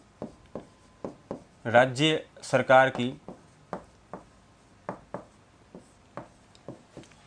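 A marker or chalk tapping and scraping across a board during a Hindi lecture on Rajasthan's polity, in short regular strokes throughout, with a brief stretch of a voice in the middle.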